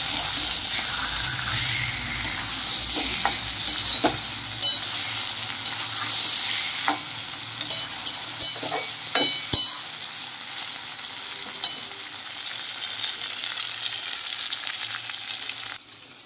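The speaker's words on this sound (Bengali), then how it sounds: "মশলার সঙ্গে বেশ ভালো করে কষিয়ে নেব, যেভাবে মাংস কষানো হয় ঠিক একইভাবে।" Katla fish stir-fried with spices in a wok, a steady hissing sizzle with intermittent scrapes and taps of a spatula, moderately loud and continuous.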